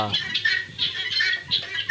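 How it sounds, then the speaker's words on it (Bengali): Chickens cluck and squawk in short, repeated high-pitched bursts over a steady low hum, fairly close and lively throughout. "দেখতেই পারতেছেন আমার তিথি মুরগি কি সুন্দর দেখা যায়"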